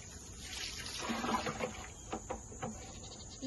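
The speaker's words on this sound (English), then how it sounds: "Let's get your water filled up." Water runs steadily into a trough for donkeys on a farm. It makes a continuous splashing, trickling flow with a few brief knocks and a faint animal call or two over the top.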